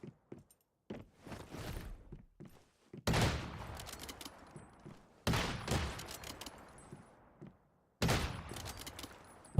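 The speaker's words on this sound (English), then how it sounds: "I heard you shoot at me." Gunfire rings out in the survival shooter Once Human, with several sharp rapid bursts and sporadic single shots separated by near silence, fairly close and punchy.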